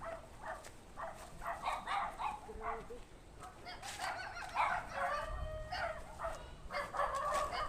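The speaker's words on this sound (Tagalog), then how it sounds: "Yun, kumakahol, doon sa kumakahol." A dog barks repeatedly at a distance in an outdoor village setting, short yelps scattered across the scene, mixed with chickens clucking and faint background noise.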